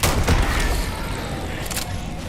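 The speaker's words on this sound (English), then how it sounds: "fireworks go off." Fireworks bursting in the video game Starfield: a dense run of loud, crackling blasts and booms with sharp bursts near the start and again toward the end, heard alone without talk.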